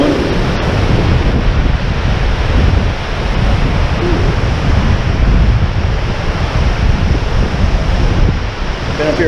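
A river rushes loudly and steadily on a hike near Rainbow Falls and Beaver Meadow Falls, its broad roar mixed with gusts of wind buffeting the microphone, with no talking.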